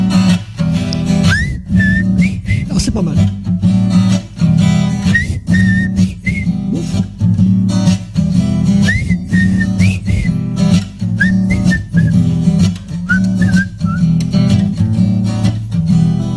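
A live audience whistles a melody together during a French song, rising in repeated short phrases over steady band accompaniment, with a brief spoken remark near the start.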